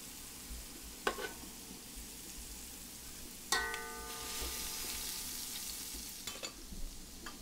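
Lamb pieces frying in a pan give a steady soft sizzle, with a few sharp clinks and scrapes of a utensil against the pan, close and fairly quiet.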